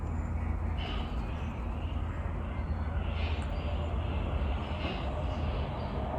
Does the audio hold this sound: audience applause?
no